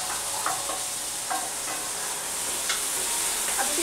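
Vegetables, shrimp and tempeh stir-fried with long beans and tomatoes, a steady close sizzle with the scrape of a spatula stirring the pan at intervals.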